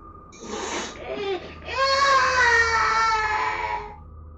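An infant cries nearby, starting with short fussy whimpers that swell into a longer, sustained wail before trailing off.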